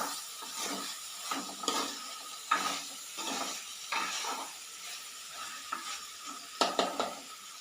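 Sliced onions fry in a pan while being stirred, with repeated scraping strokes over a soft sizzle, each stir a short swell of hiss, close and fairly quiet, with no voices.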